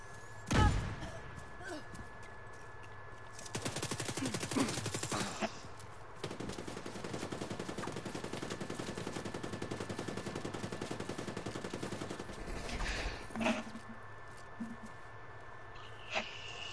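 Automatic gunfire in a video game as enemies shoot at the player: sustained rapid bursts running for long stretches, with sharp loud shots near the start and end, all close and loud.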